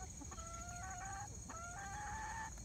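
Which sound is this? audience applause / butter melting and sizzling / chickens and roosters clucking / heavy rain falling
chickens and roosters clucking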